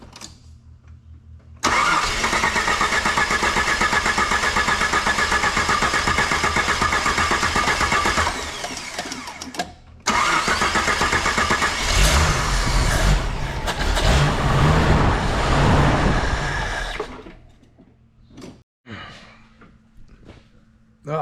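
A Jeep CJ/YJ engine runs on a newly swapped carburetor, a loud steady mid-pitched roar that cuts out briefly, restarts and later dies away, with a person speaking over it.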